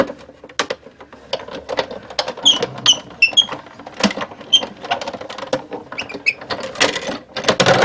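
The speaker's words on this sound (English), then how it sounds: "that's all you need to do with your die cut machine" A die cut machine runs a piece of cardstock through with a scalloped circle die, giving irregular mechanical clicks, creaks and rattling taps close by, with a few high squeaky tones in between.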